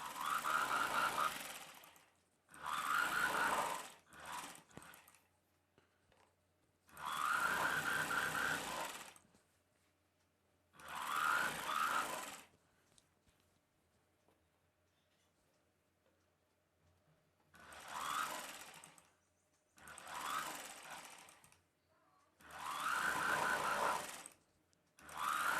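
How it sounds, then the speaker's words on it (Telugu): A sewing machine stitches a blouse in several bursts of rapid, loud mechanical whirring, each a few seconds long, with quiet pauses between runs. "ఇప్పుడు మనం కుట్టు వేసేసుకోవాలి"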